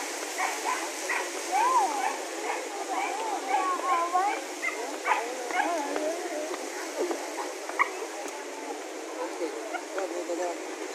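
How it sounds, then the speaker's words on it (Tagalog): Dogs bark and whimper among a noisy evening crowd in a busy city district, with yips and whines rising over steady chatter, people talking nearby throughout. "Uy, ang ganda ng aso na yun."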